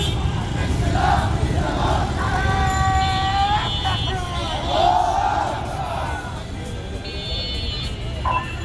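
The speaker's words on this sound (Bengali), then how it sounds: "আর এখানে সামনে দিয়ে একটা মিছিল যাচ্ছিল।" A street procession moves through Dhanmondi on a cold winter night, a crowd chanting and shouting in rising and falling waves over steady traffic rumble, with occasional horn toots close by.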